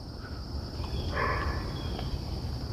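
Crickets chirp in a forest on a morning hike, a steady, constant high drone that runs through the whole stretch, with faint rustling and a brief louder burst of insect or bird sound near the middle.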